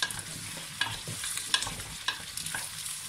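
Chopped onion and garlic frying in a pot as the base for a pumpkin soup with Hokkaido squash, potatoes, parsley root and ginger; soft sizzling with several scraping stirs of a spoon, close by, no talking.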